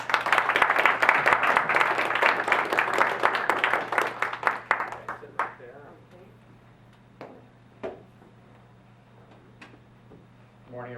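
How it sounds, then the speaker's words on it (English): Audience applause at a public policy event rises loud and dense for about five seconds, then thins into a few scattered claps and fades out over a steady low hum in the room. "Please give a round of applause."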